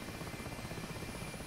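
Rotor and turbine roar of an Mi-8 helicopter in the DCS flight simulator, a steady dense drone with a constant rhythmic thrum, loud and unbroken throughout with no voices.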